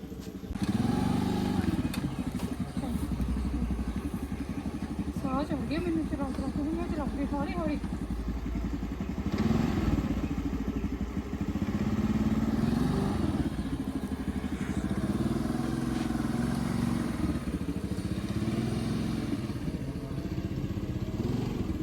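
A learner rides a scooty, its small engine humming steadily and close throughout, with people talking over it.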